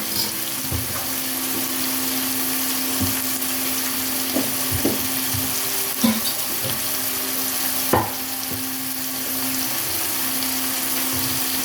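Meat and onion frying in a pan, a steady close sizzle with occasional small pops and clicks of stirring throughout.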